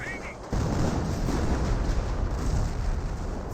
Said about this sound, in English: And now do have some offensive artillery being brought in.